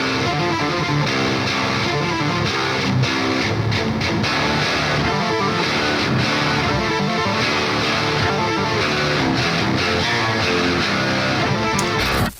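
Mixed rhythm guitars played through the LABOGA DS Suite amp sim, with dense, distorted chugging chords and palm-muted riffs that stay loud and sustained throughout, with no talking.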